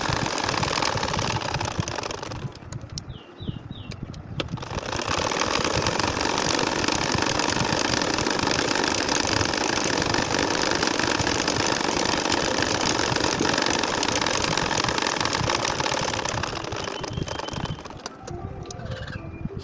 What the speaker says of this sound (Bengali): এখন হচ্ছে লম্বালম্বিভাবে সেলাই করে যাচ্ছি।